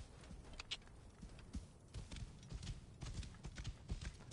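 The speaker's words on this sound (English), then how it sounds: "Come on, horse. Don't glitch out." A horse's hooves clatter in a quick, uneven clip-clop across the ground in Assassin's Creed Origins, fairly faint and steady throughout with no talking.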